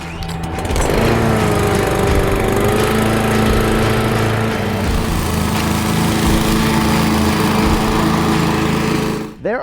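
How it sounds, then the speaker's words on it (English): A DeWalt 21-inch 196cc gas-powered rear-wheel-drive self-propelled lawn mower starts up and runs steadily at close range, its engine droning loud and even before cutting off abruptly at the end. "their new 21-inch 196cc rear-wheel drive self-propelled 3-in-1 lawnmower"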